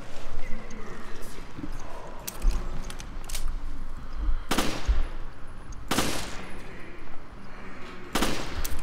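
Gunfire in the Resident Evil Revelations video game: scattered loud shots, with sharp cracks near 4.5, 6 and 8.2 seconds over a busy background of clatter and a voice talking.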